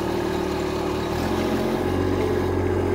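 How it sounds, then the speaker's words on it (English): Stuck tractor with both back wheels spinning, its engine droning at a steady, loud, continuous pitch with a slight shift in tone partway through. "Now I've got increased traction. Both back wheels are spinning."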